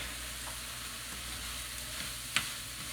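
Vegetables for white bean chicken chili sizzle steadily in a pot, a soft continuous fry hiss with a single sharp tick near the end and no voices.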